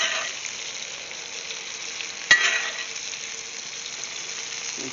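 Steak cooking in melted butter in a cast iron pan, a faint steady hiss with one sharp clink midway followed by a brief louder sizzle burst.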